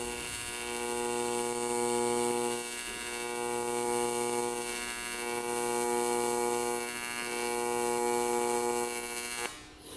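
A pulsed welding machine laying beads one at a time gives a steady electrical hum with a faint rhythmic pulsing, moderately quiet and continuous, with no talking.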